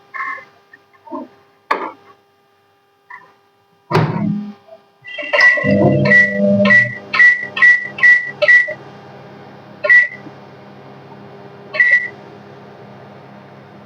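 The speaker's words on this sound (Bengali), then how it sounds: "4 মিনিটের জন্য মাইক্রোওয়েভে দিলাম।" A microwave oven in a home kitchen, set to four minutes for baked Gondhoraj bhetki fish: a heavy door thunk, then a quick run of bright, evenly spaced keypad beeps, with two more single beeps after a pause.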